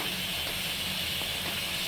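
A steady, loud hiss of chopped tomatoes sizzling in a hot pan for mutton kulambu, continuous and close with no pauses.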